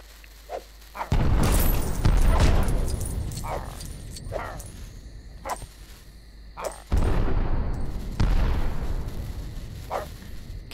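Big bombs blow up terrain in the PS4 game LEGO Worlds: two heavy, loud booms with long rumbling decays, separated by several seconds, with smaller crackling pops and debris sounds trailing after each blast.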